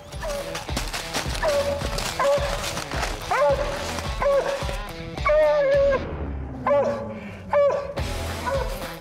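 A hound dog barks steadily at a raccoon up a tree during a night coon hunt, repeated loud bawling barks with short gaps, some drawn-out and whining, close by with faint voices in between.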